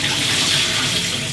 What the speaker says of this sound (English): at this stage, we can drain the spinach